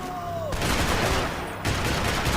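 Rifle fire in the shooter Max Payne 3. Dense, loud bursts of shots follow a brief quieter lead-in, with a short dip in the middle.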